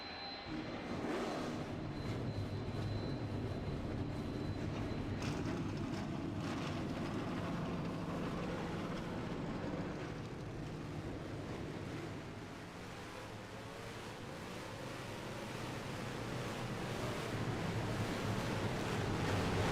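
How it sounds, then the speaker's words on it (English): Engines of a full NASCAR field in a racing game at New Hampshire Motor Speedway, Loudon, rumbling together as a dense, steady, loud roar across the whole stretch, with no voices. "Drivers, start your engines!"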